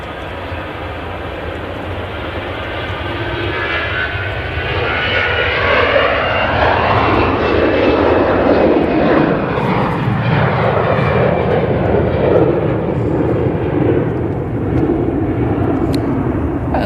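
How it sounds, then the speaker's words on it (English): EasyJet Airbus A320 jet airliner at Manchester Airport, a loud, sustained engine roar that swells and shifts pitch as the plane passes, steady throughout with no talking. "an EasyJet A320 going Gibraltar"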